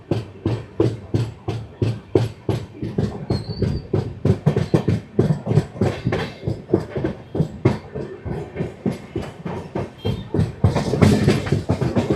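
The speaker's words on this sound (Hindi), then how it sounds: "और सामने हमारी जो ट्रेन आ रही है ये है सुखोवी गुवाहाटी पैसेंजर।" The Sukhovi Guwahati passenger train rolls past at Hojai with a steady, loud clickety-clack of wheels over rail joints, the rhythm continuing unbroken throughout and swelling slightly toward the end.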